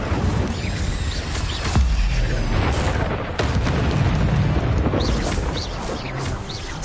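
Incendio, the fire spell in Hogwarts Legacy, erupts in a series of booming, whooshing bursts over a steady roar of game sound, with sharp hits at intervals and no voices.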